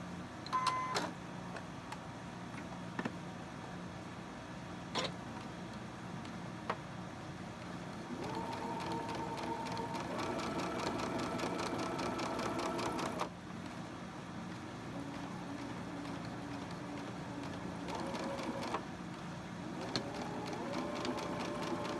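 A sewing machine stitches a fabric quilt block, its steady mechanical whir running at even speed for a long stretch, with small clicks at the start and a low background hum.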